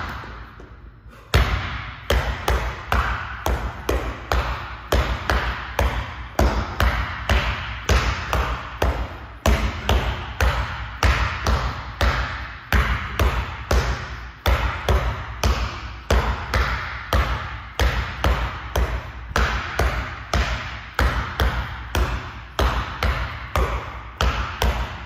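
A heavy basketball bounces hard and steadily between the legs, one thudding dribble after another for about twenty seconds. The impacts come close and loud, with a brief pause near the start.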